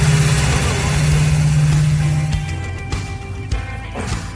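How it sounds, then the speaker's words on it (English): A 1985 Chevy Monte Carlo G-body engine with a flat tappet cam runs loud and steady with a deep low hum, easing off slightly partway through, alongside background voices. "Motor sounds insane."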